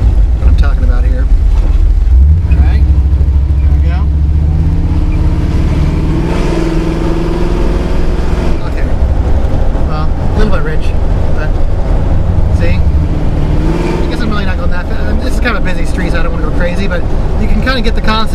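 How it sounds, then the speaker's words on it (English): A car engine with Holley EFI HP Terminator fuel injection revs and pulls under hard throttle, a steady loud droning roar that rises and falls, with someone talking over it. "I'm gonna give it some gas and I'm gonna punch it"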